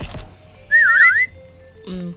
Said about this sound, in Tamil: இப்போ விசில் ஊத போகுது.